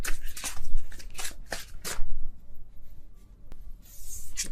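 Tarot cards handled on a table: a run of quick, crisp papery swishes and flicks, close and fairly soft, followed by a short pause and one last light card flip, with no one speaking.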